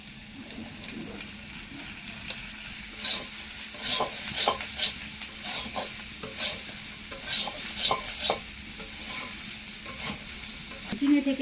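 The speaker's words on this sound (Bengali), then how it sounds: "কিছুক্ষণ ভালো করে ভেজে নেব, তারপরে নুন দেব।" Prawns and potatoes fry with ginger in a pan, giving a steady sizzle broken by repeated scraping stir strokes at an uneven rhythm, close and fairly loud throughout.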